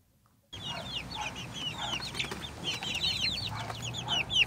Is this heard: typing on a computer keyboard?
no